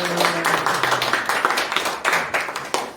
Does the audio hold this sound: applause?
yes